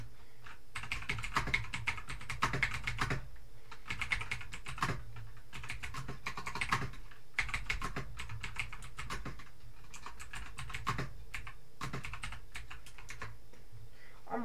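Steady computer keyboard typing in bursts of rapid clicking separated by brief pauses, close and fairly quiet, without any speech.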